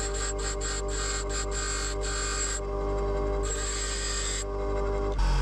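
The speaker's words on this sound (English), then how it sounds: "the only way I've sharpened my drill bits is with the standard grinding wheel so far" A drill bit being sharpened on a standard grinding wheel, a steady loud abrasive grinding drone with a low motor hum, the gritty hiss pulsing and briefly dropping as the bit is moved against the wheel.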